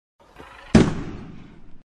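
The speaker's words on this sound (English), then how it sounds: "Similarly, we make a green firecracker." A homemade green-colored firecracker gives a soft fizz and then a single sharp, loud bang that decays over about a second, heard close with no talk.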